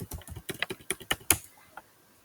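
Keys clatter on a computer keyboard as a user ID and password are entered, about a dozen crisp close taps in a quick uneven burst that stops after a second and a half, followed by near silence.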